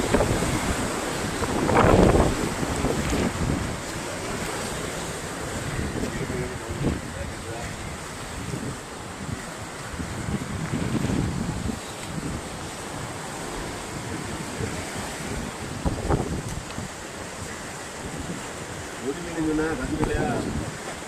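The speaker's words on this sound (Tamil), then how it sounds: "பாருங்கள் எப்படி கடல் அலை எப்படி இருக்குன்னு பாருங்கள் ஃப்ரெண்ட்ஸ்" Sea waves surge and break against a bridge pier under steady wind buffeting the microphone, a loud continuous roar with a few heavier swells, and a voice speaks briefly near the start and end.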